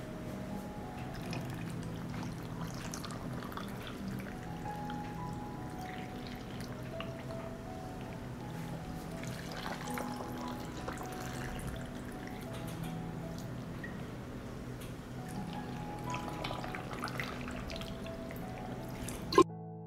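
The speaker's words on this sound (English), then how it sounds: "I pour water into each jar to cover the ingredients." Water is poured into canning jars over pickling ingredients such as ground red pepper, a steady, continuous liquid pour with soft trickling and dripping that runs evenly at moderate volume throughout.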